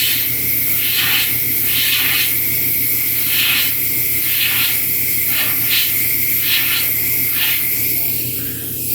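An airbrush sprays paint onto a sculpted Thor figure, producing a close, steady hiss broken into repeated short bursts of stronger spraying, with no talking.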